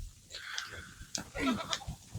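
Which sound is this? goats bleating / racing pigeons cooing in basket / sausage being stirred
goats bleating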